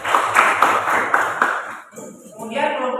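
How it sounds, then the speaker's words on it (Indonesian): A class claps hands together in a classroom after a student group presents its answers, a short burst of sharp, close claps that fades out, followed by a voice speaking. "Tepuk tangan dulu"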